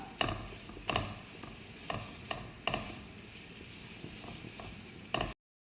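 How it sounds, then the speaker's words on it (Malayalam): Onions and spices for a prawn roast are stirred in a hot pan, a soft sizzle punctuated by regular sharp spoon scrapes, fairly quiet and ending abruptly in silence. "ഇത് നമുക്ക് ഉള്ളിയിലേക്കിടാം ഇളക്കി കൊടുക്കുക"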